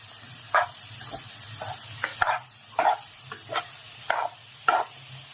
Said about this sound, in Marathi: आणि आता आपण ही छान ढवळून घेऊया